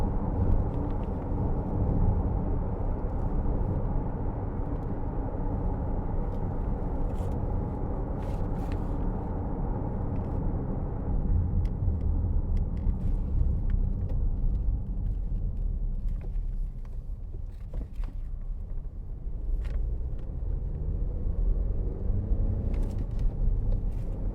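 A 2013 Honda CR-V 2.0 i-VTEC petrol car driving on a wet road, heard from inside as a steady low engine and road rumble, with a drop in the drone as the gears change and small knocks and clicks in the cabin.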